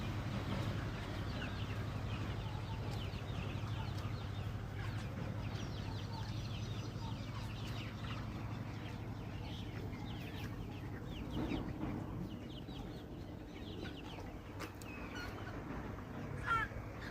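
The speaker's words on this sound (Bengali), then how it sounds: "এই যে ব্রয়লার মুরগি।" Broiler chickens cluck in a steady, dense chorus inside poultry farm houses, with a constant low hum of the barn beneath them and a few louder calls standing out near the end.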